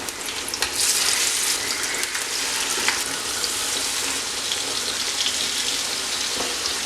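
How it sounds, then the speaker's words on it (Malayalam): Marinated prawns shallow frying in oil in a pan make a loud, steady sizzle that crackles and spits continuously throughout, with no talking. "ഇനി നമ്മളിവിടെ മാരിനേറ്റ് ചെയ്ത് വെച്ചിരിക്കുന്ന ചെമ്മീൻ ഒന്ന് ഫ്രൈ ആക്കി എടുക്കാം ഷാലോ ഫ്രൈ ചെയ്താൽ മതി"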